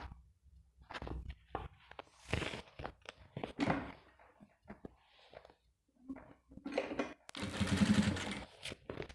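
Sewing machine stitching a seam on crystal plastic and cotton fabric binding, a series of short rattling bursts with pauses between them, close by and fairly quiet.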